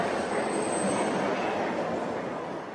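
A London Underground tube train sits at the platform in a heatwave, giving a steady loud rumbling hiss with a faint high whine that slowly fades near the end.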